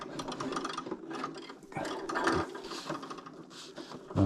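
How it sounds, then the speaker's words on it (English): A sewing machine stitches the bottom hem of a Eurohike Cairns 2 DLX dome tent's fabric in short uneven bursts of mechanical whirring and clatter, close and fairly quiet, with small pauses between runs. "Pesky sewing machines decided to"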